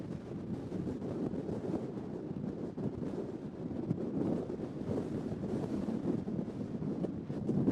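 Steady wind gusts roar into the microphone on open ground off an unofficial path, a continuous low buffeting rush that swells and eases with no talk.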